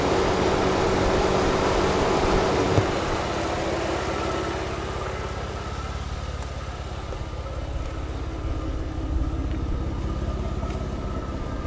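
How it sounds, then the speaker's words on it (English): A custom 2008 Jeep Wrangler JK with an aftermarket exhaust idles nearby, giving a steady, deep, rumbling drone that stays even throughout, with a slight drop in intensity after the first few seconds and no voices. "Exhaust has a very nice sound to it too."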